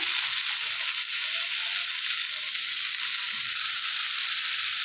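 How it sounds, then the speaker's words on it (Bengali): A pumpkin, potato, shrimp and fish-head curry frying in a pan gives off a steady, even sizzle that continues throughout, close and moderately loud. "তারপর আমি কুমড়ো আলু চিংড়ি মাছ মাছের মাথা দিয়ে তরকারিটা বসিয়ে দিয়েছি"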